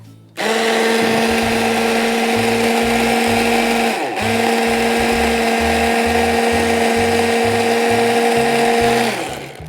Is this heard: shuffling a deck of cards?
no